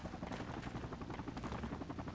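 A military helicopter in the Project Reality video game thrums steadily with continuous rotor and engine noise, loud and dense, with no talk.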